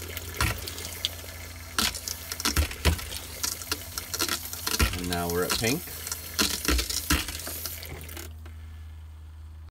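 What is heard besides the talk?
water running from RV faucet through hot water lines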